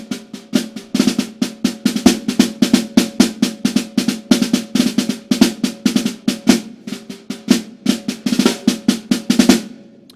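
Solo snare drum playing a 15/16 passage ornamented with Frisé rolls: dense, rapid strokes and buzzing flams in a steady driving pulse, close and loud throughout with no talking.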